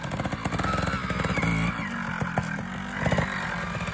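A trial motorcycle putters and blips during a riding exercise on a velodrome-style concrete slab, its engine note rising and falling in short throttle bursts with some mechanical clatter, fairly close but not loud.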